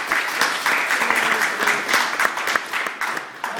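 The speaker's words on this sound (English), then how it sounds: "Can you please give that family a round of applause?" An audience at a community conference breaks into steady clapping, a dense, continuous patter of many hands heard up close for a few seconds, with no one speaking over it.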